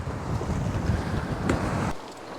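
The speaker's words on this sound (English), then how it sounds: "So the wind is already dying down" Wind roars steadily past a sailboat crossing the Kattegat, a loud rushing buffet over the microphone with water wash beneath, easing slightly toward the end.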